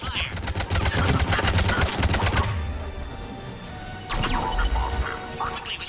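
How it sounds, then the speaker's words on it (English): Heavy automatic gunfire rattles in fast bursts in the sci-fi shooter game Mass Effect 3, loud and close, pauses briefly, then resumes with impacts under battle noise. "taking heavy fire"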